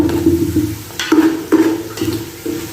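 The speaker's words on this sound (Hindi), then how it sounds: "अच्छे तरीके से मिक्स कर लेते हैं ताकि हमारा मसाला जो है" Spices including turmeric being stirred and fried in a pan for aloo matar pulao, with rhythmic spoon scrapes and clinks about every half second over a soft sizzle.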